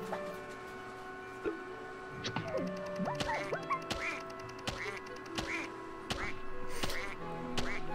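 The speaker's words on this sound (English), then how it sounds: "I'm hearing ducks." Cartoonish ducks quack repeatedly in Mario + Rabbids Kingdom Battle, several short calls scattered over steady game music and ambience, with a voice talking at times.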